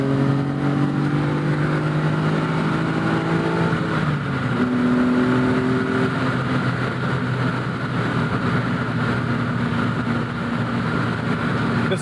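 A 1988 BMW M5 E28 drives on, its engine a steady, near drone that drops in pitch as it shifts around the fourth second, then settles into an even cruising hum with road noise.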